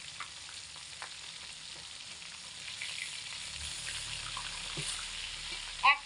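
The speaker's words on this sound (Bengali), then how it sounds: "মাছগুলোকে মিডিয়াম টু হাই আঁচে রেখে খুব ভালো করে ভেজে নেব।" Tilapia fish pieces fry in hot oil over medium-high heat, producing a continuous loud hissing sizzle that swells slightly midway, ending with a brief sharp clatter.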